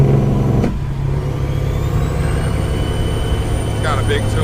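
A Volvo truck with a loud-tuned Detroit engine droning and revving steadily up close, a deep heavy rumble held throughout with a short hiss near the start.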